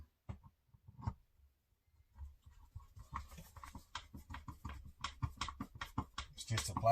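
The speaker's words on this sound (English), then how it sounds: "And start putting screws back in." Small screws being driven back into the plastic stock of a Umarex Air Javelin air rifle, a dense run of close, quick scratchy clicks and ratcheting taps that builds steadily louder after a quiet start.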